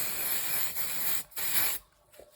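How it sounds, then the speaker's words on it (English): A steady hissing spray from an aerosol can of silicone lubricant used as mould release, released in a few sustained bursts with brief breaks, close and fairly loud. "This is a silicone lubricant, which I think is the same as the mould release spray."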